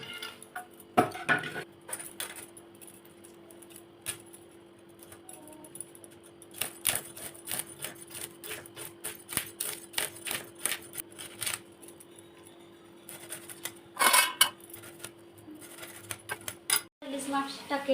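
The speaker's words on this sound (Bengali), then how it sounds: "ইলিশ মাছ দুটো আমি এবার কেটে নেব।" A hilsa fish being cut up in a home kitchen, with repeated sharp knocks and scraping clicks of knife and board in irregular bursts, close and fairly loud, against a steady low hum.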